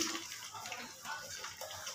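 Tap water runs steadily close by as a dried lemon leaf is rinsed under it while cooking gandharaj chicken, a continuous splashing wash with no voices.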